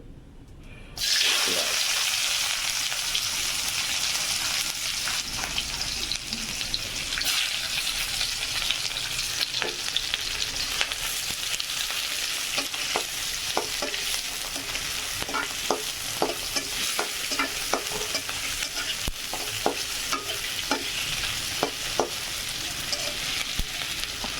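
Onions frying in hot oil for a Bengali fish curry with elephant foot yam and potato, a steady crackling sizzle throughout, with repeated light stirring clicks and scrapes of a spatula against the pan.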